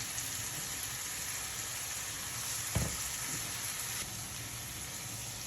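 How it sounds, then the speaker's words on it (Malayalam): Chilies and shallots sizzle steadily in hot oil in a pan for a Kerala-style puli inji, an even crackling fry with one brief clatter midway and no voices. "അതിലേക്ക് നമ്മൾ മുളകും ചെറിയ ഉള്ളിയും ഇട്ട് കൊടുക്കാം. ഇവിടെ കിടന്ന് വേകട്ടെ, മൂക്കട്ടെ."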